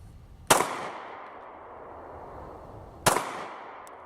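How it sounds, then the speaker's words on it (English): Two sharp pistol shots from a Sig Sauer P320 Compact in .40 S&W crack about two and a half seconds apart, each followed by a lingering outdoor echo tail. "Pistol sniping with a Sig 320."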